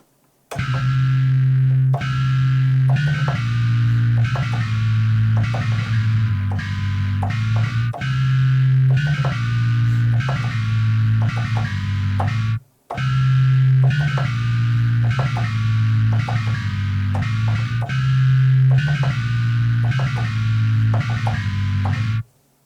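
Bass guitar runs through a Neural DSP Darkglass Ultra distortion plugin, playing a loud, gritty, rhythmic chugging riff with a brief break halfway through.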